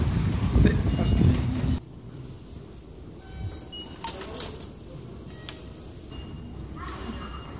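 A Tokyo metro train runs near Ikebukuro, a loud rumbling roar that cuts off abruptly, leaving a quieter station hum with faint clatters and distant tones.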